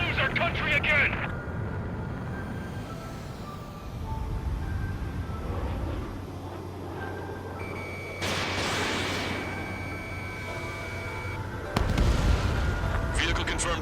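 In the Ace Combat 7 campaign, booming explosions and bursts of gunfire strike at intervals over a background of aircraft and battle noise. A loud blast lands near the end.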